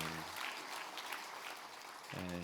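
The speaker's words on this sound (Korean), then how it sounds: "한 번 더 박수해 주십시오." Church congregation applauding during a Sunday worship service, a steady wash of clapping from many people filling the space for a couple of seconds, with voices at the start and end.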